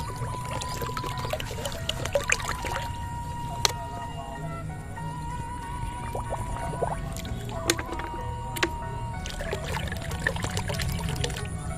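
About 20 litres of water poured into a plastic paint bucket, a steady close trickling and splashing rush that runs continuously with small knocks and clatters.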